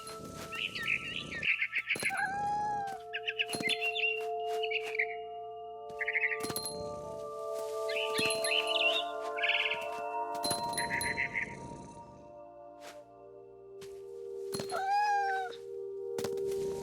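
A cat meows repeatedly in What Remains of Edith Finch, drawn-out, wavering calls with a few short chirps and faint chiming tones in between, fairly close and clear.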